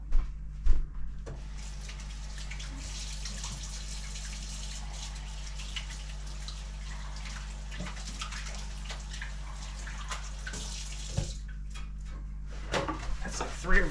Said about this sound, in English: Make sure my hands are scrubbed and clean and ready to go. Now, and I'm going to wash them real quick.